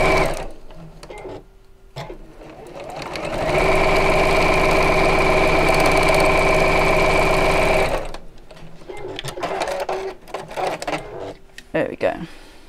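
A sewing machine stitches a seam on a fabric bag in one sustained, close, humming run of several seconds, with quieter handling noise and speech before and after it.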